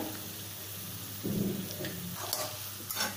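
Pineapple sheera with ghee is stir-fried in a pan: a soft background sizzle, a brief scraping stir in the middle and a couple of light clinks of a spoon against the pan.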